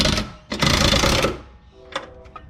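Impact wrench (rattle gun) nipping up wheel spacer nuts on a Ford Territory during a rear lift install: a loud sustained rattling burst followed by a few shorter, fainter bursts nearby.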